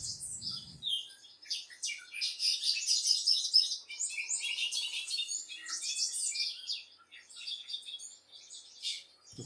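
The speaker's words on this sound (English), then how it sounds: "that sounds like a regular bird" High-pitched chirping bird call played back from a device outdoors while searching for a bobolink, a continuous busy run of twittering notes for most of the stretch, fairly loud and close with no talk over it.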